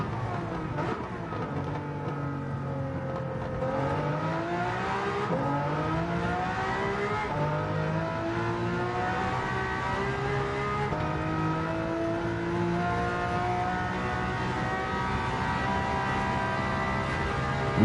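Race car engine in a video game revving steadily for about eighteen seconds, its pitch climbing and shifting through gears with a continuous loud drone and no one talking.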